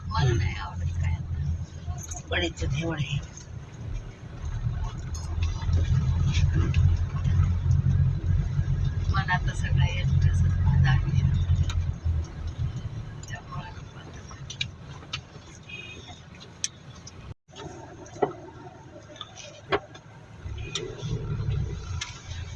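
A car carrying party workers drives along a crowded road near Shikhar Shingnapur, its engine a steady low rumble that swells in the middle, heard beneath almost constant talking inside the vehicle.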